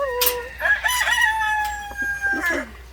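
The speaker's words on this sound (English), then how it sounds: "Oh, turkeys everywhere." Turkeys gobble and cluck close by in quick succession, with a loud crowing-like call near the start and more squawks near the end.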